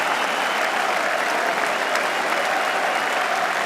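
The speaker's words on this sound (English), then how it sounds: "And applauding the crowd have been magnificent." Thousands of spectrators at Edgbaston keep up continuous, even applause after England's two-run Test victory over Australia in 2005, a thick, loud blanket of clapping with no breaks and no voices rising above it.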